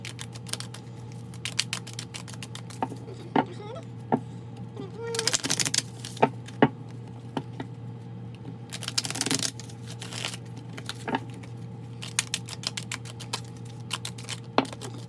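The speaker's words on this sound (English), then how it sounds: "Sometimes it does take a minute to get these cards well and shuffled." Tarot cards are shuffled with crisp flicks and riffling snaps, irregular bursts over a steady low hum.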